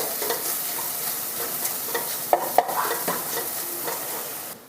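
Grated ginger and garlic paste sautéing in a pan while being stirred, a steady close sizzle with scraping strokes and a couple of sharp utensil clicks, no voices.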